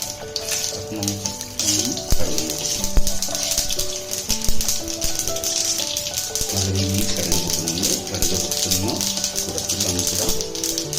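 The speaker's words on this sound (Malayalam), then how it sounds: "അപ്പം വെളിച്ചെണ്ണ ഏകദേശം ചൂടായി വന്നിട്ട് കടുക് ഒന്നര ടീസ്പൂൺ" Mustard seeds crackle and pop in hot coconut oil, a dense run of rapid spattering that carries on steadily near the pan, with music and a voice running underneath.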